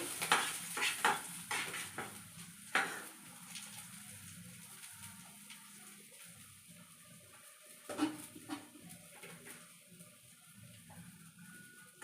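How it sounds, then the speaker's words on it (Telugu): Onions and green chilies frying in a pan, with a steady soft sizzle under repeated clinks and scrapes of a utensil against the pan, some louder knocks near the start and again around the middle. "ఉల్లిపాయలు పచ్చిమిరకాయలు అయితే ఆల్రెడీ వేగుతూ ఉన్నాయి"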